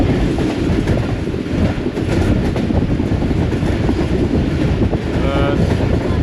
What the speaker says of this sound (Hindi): दोस्तों इस वक्त हमारी ट्रेन दीना रेलवे स्टेशन के यार्ड में से गुजर रही है